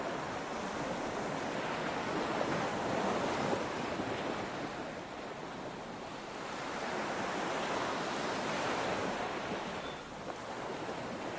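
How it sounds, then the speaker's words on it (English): Ocean waves roll in a virtual reality harbor scene, a broad continuous surf wash with slow swells rising and falling, steady and moderately loud with no voices. "we have made a scene of ocean, and this is a harbor"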